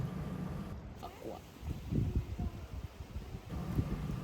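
Outdoor wind blowing by the Danube in Novi Sad, a steady broadband rush with gusting low rumble and microphone buffeting across the whole stretch, continuous and fairly close.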